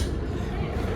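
Economy-class passenger train rolling into Kroya station, a steady low rumble and rattle of railcars throughout, close and continuous with no distinct voices.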